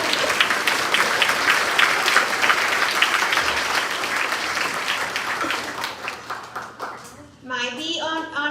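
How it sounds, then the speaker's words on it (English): Children and adults at a grades 4-6 school awards assembly clap for an honor roll student, dense applause that carries on for several seconds before fading, followed by someone speaking. "Oh wait, we need a clap."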